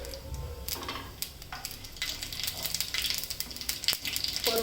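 Cumin and mustard seeds crackle and sizzle in hot oil for a Marathi dry safflower-greens stir-fry, a steady close frying hiss with sharp irregular pops and spits throughout.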